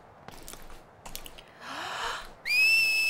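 A character in the video game Final Fantasy X whistles: a few faint breathy attempts and a short rising glide, then a loud, steady high whistle that holds to the end, with no talk.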